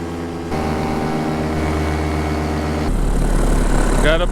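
A paramotor engine drones loudly and steadily during an early-morning flight, a buzzing propeller hum that shifts to a harsher, louder roar partway through, with some wind rush.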